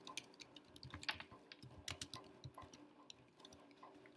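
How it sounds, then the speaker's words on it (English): Quiet, close typing on a computer keyboard, a quick uneven patter of key clicks with brief pauses, with no talking. "I'll quickly type it up."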